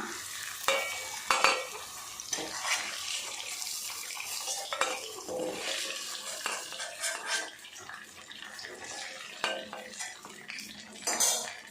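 Cauliflower chilli fries in a pan under a soft sizzle while a utensil repeatedly scrapes, clinks and stirs against the metal, close and fairly quiet.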